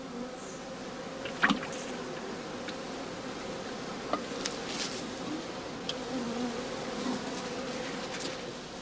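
Honey bees buzz around straw skep hives used for overwintering colonies behind a farm, a steady, dense hum of many insects with a few brief louder passes and faint clicks close by, no voices.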